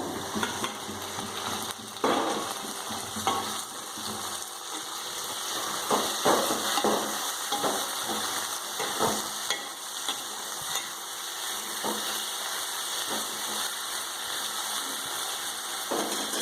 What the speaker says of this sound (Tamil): வெங்காயம் பாதி அளவு வதங்கிட்டு பாருங்கள். தக்காளி ஆட் பண்ணிடுவோம்.